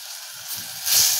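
Tomatoes hitting a pan of sautéed chicken with garlic and onion, a brief close hiss that swells into a louder sizzle at the end.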